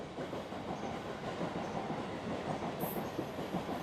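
A train rolls near a railway station with a faint, steady rumble and soft clatter of wheels on track, heard from a distance with no voices.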